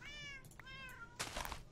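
Cats meowing in the Minecraft video game: two drawn-out, clear meows in quick succession, then a burst of rough noise, all over a steady background bed with no talk.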